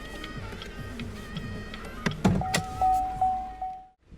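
Power windows on a 2017 Cadillac ATS Coupe whir as they run, a steady motor hum followed by a few soft clunks as the glass seats, close and clear with no talking.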